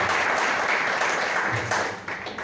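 A church congregation applauding in a steady wash of clapping that carries on through the moment and fades slightly toward the end.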